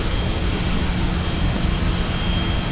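Constant cabin drone of an Emirates Airbus A380 in flight: a dense, even roar with low rumble and a steady high hiss, close and unbroken, with no voices.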